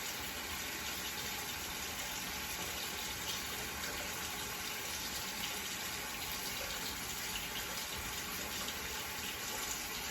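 Water runs steadily from a tap during handwashing, a constant even hiss at moderate level that carries on with no pauses or voices.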